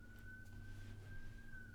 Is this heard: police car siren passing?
yes